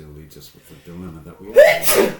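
A single sharp sneeze bursts out near the end, loud and close, after a stretch of ordinary conversation among several people talking.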